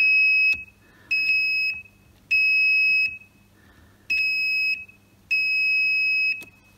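A fuse tester emits a series of sharp electronic beeps, five tones of varying length separated by short silences, fairly loud and close, testing a Toyota Aygo's fuses.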